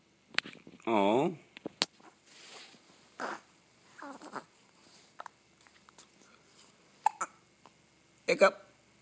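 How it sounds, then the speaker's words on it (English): A dog hiccups in a quiet room, several short, sharp jerky hiccups spaced irregularly, with a person talking softly between them. "Do you have the hiccups?"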